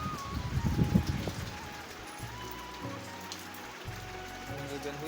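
Rain falls steadily outdoors in a village, a soft continuous patter on surfaces with a brief louder burst near the start and faint other sounds beneath.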